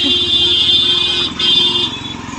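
Vehicles passing on a busy main road near a beach: a loud, close, steady engine drone of motorbikes and cars with a bright horn-like whine over it, dipping briefly midway before carrying on.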